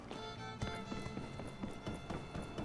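Horse hooves clip-clop in the video game My Time at Sandrock, a faint, quick run of soft taps over a steady background of game music.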